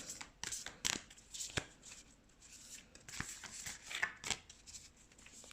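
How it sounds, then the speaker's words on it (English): Matte oracle card deck being shuffled by hand, a quick series of soft riffling slaps and papery flutters, close and quiet, irregular in rhythm. "Let's shuffle."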